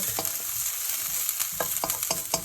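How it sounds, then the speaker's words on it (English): Garlic fries in a pan for a Moroccan lamb tagine curry: a close bed of sizzling hiss broken by several sharp, regular scrapes of a utensil against the pan, no talking. "So that garlic is nicely cooking."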